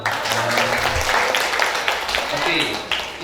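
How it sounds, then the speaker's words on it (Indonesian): Audience applause at a talk on handling cheating at polling stations, a steady wash of clapping that fills the whole moment with voices mixed in under it. "Tepuk tangan dulu dong."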